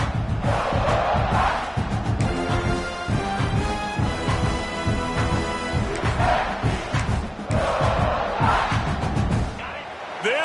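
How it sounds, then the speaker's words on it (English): Full-throated stadium crowd roaring at a football game, a dense sustained wall of cheering and yelling that swells in waves, with brief musical or horn tones running through the middle. "This crowd, full throat, spreading the eardrums and letting them know it's going to be a long day."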